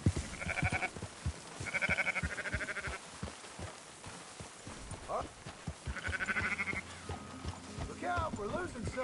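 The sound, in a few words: sheep bleating in video game Red Dead Redemption 2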